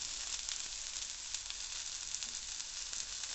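Sliced onion, capsicum and tomato sizzle steadily in hot oil with ginger and garlic in a pan for Schezwan noodles, a soft, even frying hiss with no talk.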